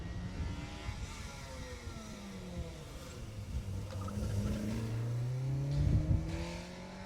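Rally cars pass through a stage in Jersey, engines rising and falling in pitch as they go by, with a sweeping passby swelling to its loudest near the end. The sound is moderately distant and comes with no talking.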